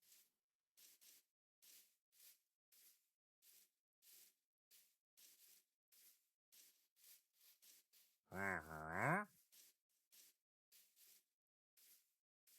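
In Minecraft, a single loud cow moo rises out of a steady run of soft, evenly spaced rustling steps, then the quiet stepping continues.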